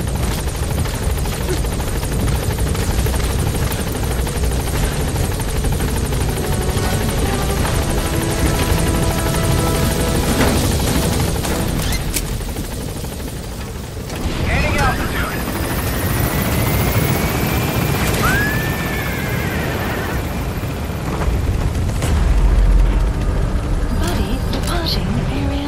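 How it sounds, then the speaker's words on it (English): A support helicopter arrives in Metal Gear Solid V, its loud, steady rotor thrum filling the scene, briefly dipping before surging back, with game voices and effects underneath. "support helicopter has arrived."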